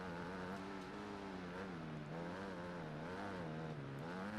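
A 250cc motocross bike engine in the MXGP 2019 racing game, held high and revving steadily, its harmonic pitch wavering up and down throughout with no pauses and no talk.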